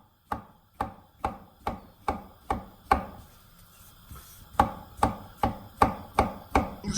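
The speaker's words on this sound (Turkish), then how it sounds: "Çıtır çıtır turşularım var. Bunları da halka halka doğruyorum." A knife slices crunchy pickles into rings on a cutting board. Sharp, evenly spaced chops come in a steady rhythm, then pause briefly, then resume in another run of crisp, close cuts.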